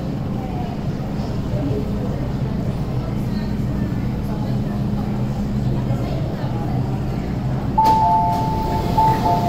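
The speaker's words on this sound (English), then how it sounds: "The train to Whampoa is arriving." An MTR train pulls into Mong Kok station on the Tsuen Wan and Kwun Tong lines, with a steady low rumble of the rolling train on the platform and a sustained electronic tone sounding near the end.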